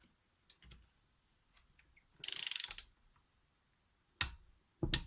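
A wrench ratchets a bolt tight on a 2008 Suzuki Swift gearbox with a 1.3 M13 petrol engine, giving a close, quick burst of rapid clicking, then a couple of sharper metallic knocks.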